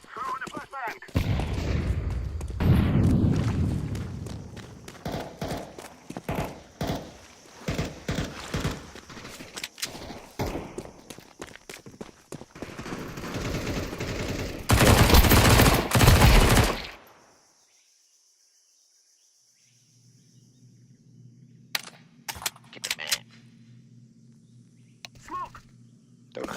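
Gunfire and a flashbang going off in Counter-Strike 2, a dense run of sharp close shots and bursts peaking in a loud blast, then a sudden drop to near silence with a faint low hum and a few scattered clicks.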